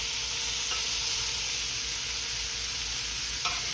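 Shrimp with garlic and Worcestershire sauce sizzle on a hot grill, a steady, dense crackle that stays loud throughout with no talking.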